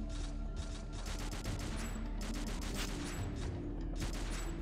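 Rapid, sustained gunfire from the video game Overkill 3, dense overlapping shots in bursts that stay loud and continuous throughout with no talk.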